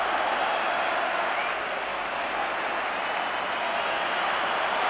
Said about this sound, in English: John Brown leaving the field to tremendous applause